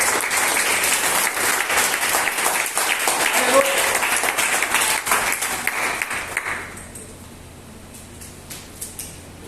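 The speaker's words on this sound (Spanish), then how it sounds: "Dale un aplauso al que vive." Congregation applause fills a church service for several seconds, a dense wash of clapping from many hands that thins and fades out near the end.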